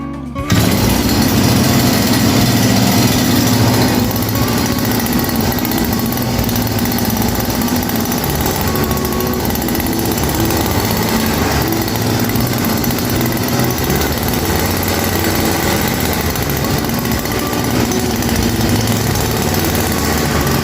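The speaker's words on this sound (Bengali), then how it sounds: "এখন আমরা কিক দিয়ে মেশিন স্টার্টের ভিডিওটি দেখাচ্ছি" A kick-started grass cutting machine engine runs continuously and loudly up close, a steady unbroken drone that holds for the whole stretch with no voices over it.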